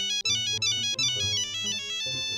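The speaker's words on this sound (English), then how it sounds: "the fucking Nokia phone just starts going ballistic" A Nokia phone ringtone blares loud and continuous, a bright repeating melodic chime with steady rhythmic notes and no voices over it.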